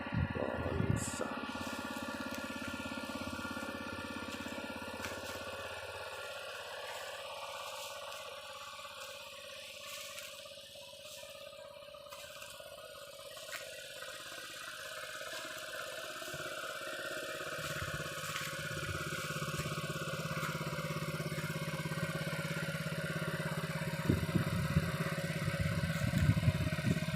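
A motorcycle engine idles near a spring-water site in Pati, Central Java, a steady low mechanical drone with light clatter running throughout, changing pitch slightly partway through.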